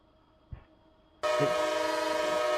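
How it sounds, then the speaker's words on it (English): The horn of an RO-scale model Amtrak locomotive, standing in for Surfliner and Superliner trains, sounds after a brief click and quiet hum. It bursts into a loud, steady, harmonic blare that holds to the end. "let's test this loud locomotive whenever it does"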